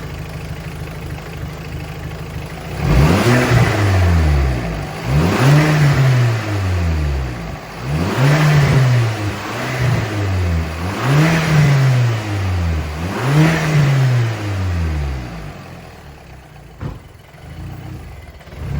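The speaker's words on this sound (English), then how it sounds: "So I'll let this run, get up temp, give it a couple of revs" VW MK5 Golf GTI engine idling, then given a series of about six sharp revs that rise and fall back to idle, close and loud, with no talk.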